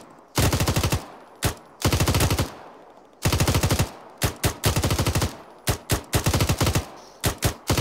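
Bursts of automatic gunfire in a military video game, long rattling volleys alternating with short two- and three-round bursts, loud and close with brief pauses between them.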